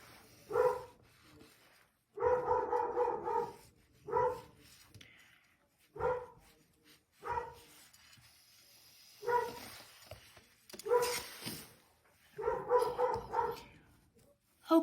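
A dog barks repeatedly indoors, in short clustered bursts of two to four barks separated by brief pauses, fairly close and moderately loud, with no talking over it.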